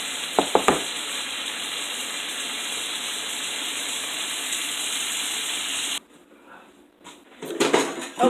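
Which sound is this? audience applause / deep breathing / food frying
food frying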